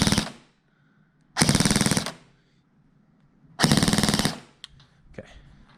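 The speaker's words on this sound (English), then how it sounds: "we're going to switch it to full auto" A PTS CM4 airsoft gun fires on full auto in two loud, close bursts of rapid clicking shots, each about half a second long, with quiet gaps between and a few faint handling clicks near the end.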